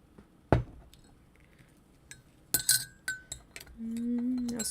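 A spoon clinks against a glass of gingerbread tea while stirring, sounding as a sharp first tap followed by several lighter clinks and a faint ring at the end, close and quiet.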